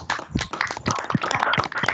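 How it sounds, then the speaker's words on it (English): Students give a round of applause over a video call after a data centre lecture, a dense burst of close, uneven hand clapping that stays busy and slightly compressed throughout, with no speech. "please, if you can unmute your mic and have a good round of applause for Pankaj sir"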